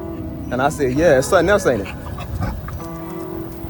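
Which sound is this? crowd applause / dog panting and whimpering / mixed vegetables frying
dog panting and whimpering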